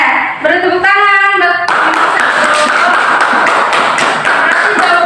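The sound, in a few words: classroom clapping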